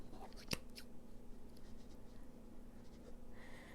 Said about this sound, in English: we're just going to clip those so that they open up